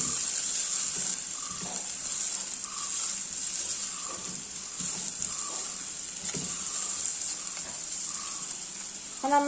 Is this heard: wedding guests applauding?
no